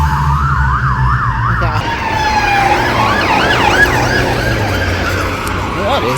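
A police car siren wails along a London street, its looping rising and falling tone sweeping past over traffic rumble, with a second siren pattern joining later; a person talks briefly nearby.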